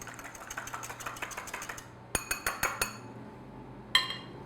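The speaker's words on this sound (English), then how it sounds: "I'm just whisking that because we're going to brush the tops of our choux pastry with that" Beaten egg whisked for an egg wash, a fork or whisk clinking rapidly against a glass or ceramic bowl in a steady rhythm, then a few sharper isolated taps, close and fairly quiet with no talking.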